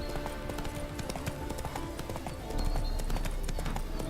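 Steady clip-clop of horse hooves at a trot in The Witcher 3, busy background sound layered underneath, growing slightly louder toward the end.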